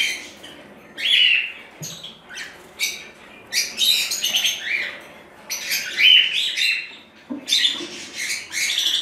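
Caged birds at their nest, a wild white-faced female paired with an albino male over five eggs, chirp and squawk in repeated bright bursts, close by and fairly loud, with no talking.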